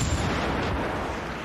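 Taser rounds fired from a modded shotgun in Fallout 4 give a dense, sustained crackling burst at steady loudness for the whole moment, with no talk.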